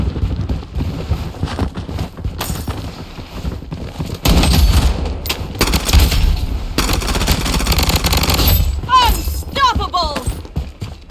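Rapid gunfire bursts in the online shooter Bloodstrike, loud and near, mixed with explosions, game effects and squad voices talking over the action.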